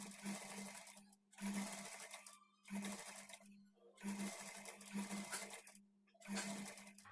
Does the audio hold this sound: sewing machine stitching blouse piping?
yes